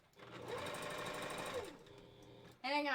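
A sewing machine stitches fur pieces for a wolf costume head, its steady mechanical whirr running close and continuous before stopping, after which a voice briefly begins.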